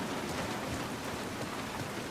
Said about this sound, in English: Ooh, listen to the sound. Rain on the tin.